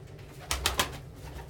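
A pigeon coos three quick times in a row, close and clear, over a low steady background with no voices.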